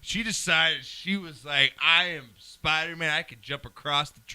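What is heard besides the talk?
No everyday noise stands out behind the speech.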